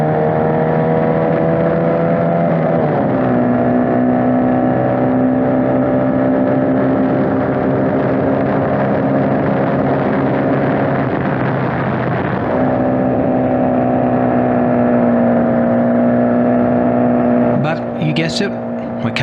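A Historic Formula Vee race car drones loudly at close range on the track, its engine holding a steady high-revving note that shifts pitch at a gear change and again later, with a voice talking over it.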